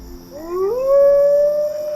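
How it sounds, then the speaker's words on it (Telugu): A dog howls at night in a single long, rising, then sustained wail, loud and close, with no voices over it. "ఏంట్రా అది, కుక్క?"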